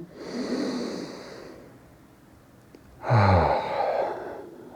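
Deep breathing during a straddle splits stretch in an online splits class: two slow, close breaths, a long airy inhale-exhale followed after a pause by a stronger, louder one, with no talking.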